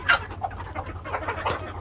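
Hens clucking close by in a backyard coop, a few short loud clucks and softer murmuring calls over a quiet background.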